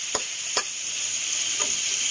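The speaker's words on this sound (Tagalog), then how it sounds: "Tapos po, gisa natin din yung ating tinapa." Smoked fish (tinapa) being sautéed in a pan, a steady hiss of frying with a few short stirring scrapes, close and fairly soft, no talking.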